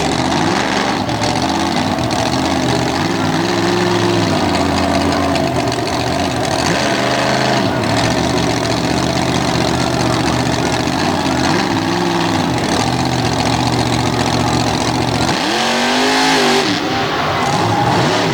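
A heavy pulling truck roars hard on a dirt track, engine loud and close throughout with rising and falling revs, surging bursts and a steady throaty drone.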